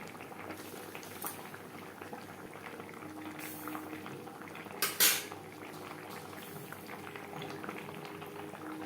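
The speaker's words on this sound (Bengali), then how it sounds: "গ্রেভির সাথে মাছ আরও তিন চার মিনিট রান্না করব" Poa Bhola fish simmering in a spicy gravy in a pot, a steady soft bubbling and low boil throughout with faint clinks of utensils and a couple of brief louder scrapes near the middle.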